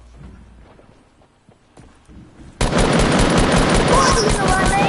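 AK assault rifle fire in Fortnite erupts after quiet movement and light thuds, becoming a loud, sustained rapid burst of gunfire that fills the rest of the moment.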